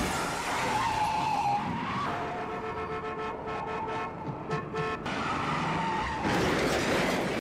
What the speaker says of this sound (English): that car chase scene that movie's well known for